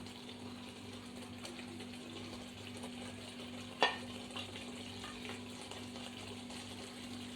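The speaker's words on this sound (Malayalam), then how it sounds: "അരപ്പ് നന്നായി തിളച്ചിട്ടുണ്ട് അതിലേക്ക് ഫ്രൈ ചെയ്ത് വെച്ചിരിക്കുന്ന കൊഞ്ച് ആഡ് ചെയ്യാം" Fried prawns go into a boiling masala paste in a pan for a prawn roast, giving a steady bubbling sizzle with one sharp clink partway through, no talking.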